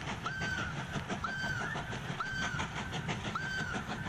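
A locomotive whistle in the train-building game Mashinky gives four short, evenly spaced toots about a second apart over a steady rumble of rolling train noise, with no talking.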